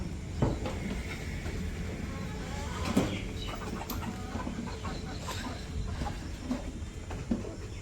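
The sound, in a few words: chickens clucking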